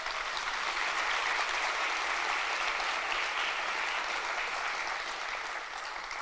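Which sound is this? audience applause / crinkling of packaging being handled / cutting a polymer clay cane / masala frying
audience applause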